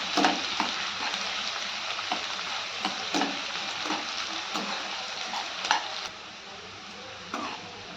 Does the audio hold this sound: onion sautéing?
yes